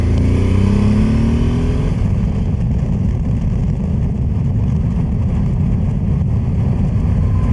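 Motorcycle riding along a road near home, a steady loud engine drone with wind rush throughout, a brief rising rev in the opening two seconds, no talk.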